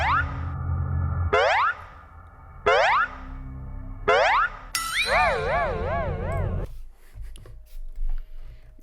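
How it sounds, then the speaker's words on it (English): Goofy cartoon boing sound effect repeated four times in quick bursts, then a longer warbling, wobbling boing tone, loud and alone with no talking. "Boing. Add a goofy ass sound effects to this shit."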